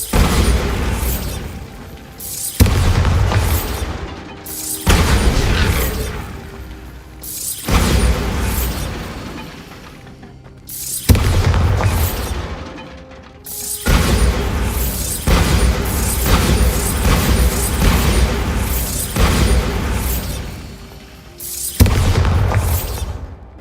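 A string of Bombarda blasting-spell explosions in Hogwarts Legacy, about nine loud booming bursts each with a rumbling tail, spaced every two to three seconds.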